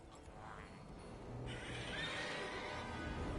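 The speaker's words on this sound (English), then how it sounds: "Whoa there, Roach. It's all right." Horse in the video game Witcher 3 whinnies, a soft distant neigh over low ambient game music, followed by a brighter, breathier sound and rustle partway through.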